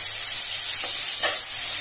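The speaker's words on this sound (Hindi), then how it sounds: "थोड़ी देर से भून देंगे" Pumpkin pieces fry in a pan, giving a steady bright hiss of hot oil with a couple of soft stirring scrapes partway through.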